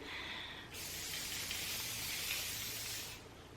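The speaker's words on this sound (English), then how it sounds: "I think now I'm going to start playing with some hairspray to get this to stay up here." A steady hiss of Kenra Perfect Medium Spray 13 hairspray sprays for about two and a half seconds, close and fairly loud, starting and stopping cleanly.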